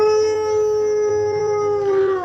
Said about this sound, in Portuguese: vi aquele cão parado me olhando e uivando.